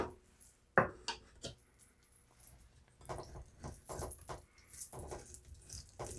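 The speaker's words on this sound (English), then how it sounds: "So we'll cut that up, making sure that I don't cut off my fingers." A knife cuts up a whole orange on a board for elderflower mead, a sharp knock followed by scattered soft chops and scraping taps at close range, and the sounds come uneven, without speech.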